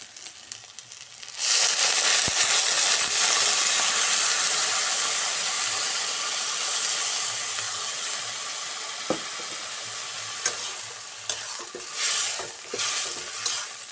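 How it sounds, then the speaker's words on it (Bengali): Taro stolons (kochur loti) being stirred and fried in a pan, a dense steady sizzle and hiss that runs almost unbroken, with occasional scraping taps of the spoon near the end. "একটু নাড়াচাড়া দিয়ে ভাজি ভাজি প্রায় ভাজি ভাজি হয়ে গেছে"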